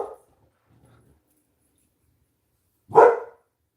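Pet dog Ginger Prince gives a single loud, sharp bark near the end, after a faint brief bark at the start and a stretch of near silence.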